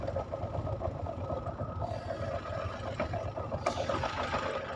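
A 2021 model 575 XP Plus tractor with M-lift pulls a rotavator through a farm field, its engine a steady, dense rumbling drone with churning mechanical noise, continuous and fairly close, with no speech.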